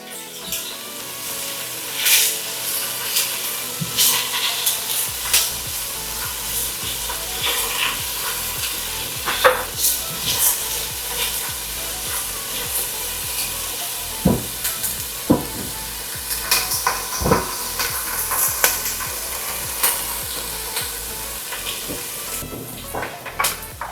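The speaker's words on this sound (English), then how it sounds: "we're going to just fry that a little bit" Beetroot for traditional Polish buraczki sizzles and crackles steadily as it fries in a pan, with scattered sharp pops over a constant hiss and no talking.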